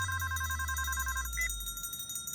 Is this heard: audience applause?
no